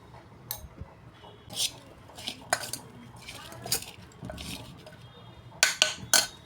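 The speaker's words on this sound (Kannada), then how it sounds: "ಈಗ ಮಿಕ್ಸ್ ಮಾಡೋಣ ನೋಡಿ. ಸ್ವಲ್ಪ ಅರಿಶಿನ ಪುಡಿ ರೀ," Raw mango being mixed with turmeric powder in a bowl, a spoon clinking and scraping against the bowl in a few quick, fairly faint bursts.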